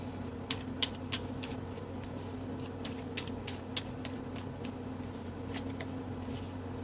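Soft, crisp card sounds from tarot or oracle cards being shuffled and drawn, a series of quick light flicks and snaps scattered irregularly over a faint steady background hum, close and quiet.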